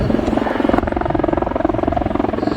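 A Royal Navy Wildcat helicopter hovering at an air show makes a loud, steady rotor thump with a rapid, even beat and a whining engine underneath.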